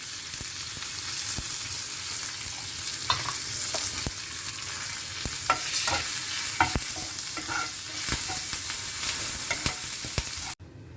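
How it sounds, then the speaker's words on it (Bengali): Mustard seeds, curry leaves and dried red chillies crackle and sizzle in hot oil for a tempering, with steady popping and spitting bursts over a continuous frying hiss, close and fairly loud, with no talking. "তেল দিয়ে দিয়েছি, এর মধ্যে আমি দিয়ে দেবো একটু সর্ষে, কারি পাতা, শুকনো লঙ্কা"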